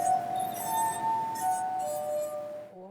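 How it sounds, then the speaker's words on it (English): A glass harp played by rubbing crystal glasses produces sustained, pure ringing tones that overlap and shift pitch, bright and close, with a faint background murmur before fading out at the end. "We're impatient to hear this crystal sound on your glass instrument."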